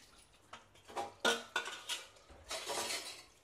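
Plates rinsed with water before going into a dishwasher: several close clinks and clatters of dishes followed by a softer splashing rinse, with no talking.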